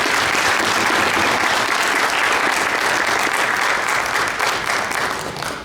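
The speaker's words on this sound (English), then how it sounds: "Let's give them a round of applause." Sustained, loud round of applause from an audience at a campus-wide meeting, dense clapping throughout that tapers slightly at the end.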